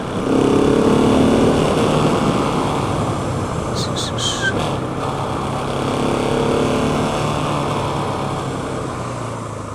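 Husqvarna 701 ABS motorcycle ridden on a first outing, its engine droning steadily and loudly at close range with wind rush throughout, under a rider's voice talking.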